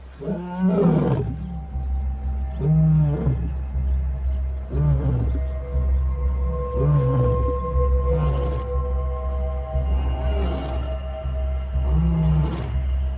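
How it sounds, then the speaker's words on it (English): A lion roars in a long series of deep, grunting calls that rise and fade in regular bursts, loud and nearby over a low rumble. "A lion's roar can be louder than a jackhammer."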